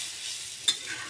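Ground turmeric, chilli, coriander and cumin with ginger-garlic paste sauté in oil for a fried layer-chicken skin dish, a soft steady sizzle with one brief scrape of a spoon, heard close.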